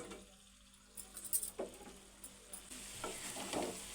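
Chicken that has already been fried is stirred in a pan with onions and garlic, giving quiet scraping stirs over a soft, steady sizzle, with a few louder spoon strokes near the middle.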